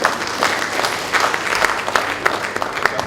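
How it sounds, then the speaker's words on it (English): Seminar audience clapping throughout in a dense, sustained round of applause, steady and fairly loud with no talk over it. "Can you clap for us?"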